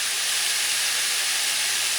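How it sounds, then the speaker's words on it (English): Soy sauce sizzles in a hot pan with pork and chicken, giving a loud, continuous bright hiss that holds steady without pause. "add some more of my soy sauce"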